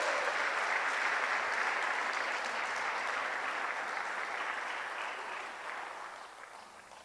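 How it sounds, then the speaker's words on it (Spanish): Sustained applause from a church congregation, steady and dense at first, then gradually thinning and fading toward the end. "Dale un fuerte aplauso."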